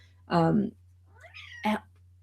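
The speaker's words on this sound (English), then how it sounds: "The cat is trying to stand on Josh." A house cat meows twice, close by, with a short gap between the calls, over a steady low electrical hum.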